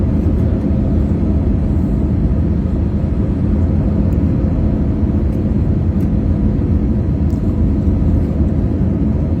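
Inside a passenger airplane in flight, heard from a window seat, a loud, constant low roar of engines and airflow fills the cabin without a break.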